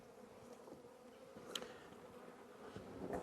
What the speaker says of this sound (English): All these bees that need to be in the hive.